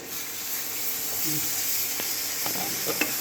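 Onion and tomato masala for egg curry sizzles and fries in a pan while being stirred, with soft scraping clinks near the end, steady and moderately loud throughout.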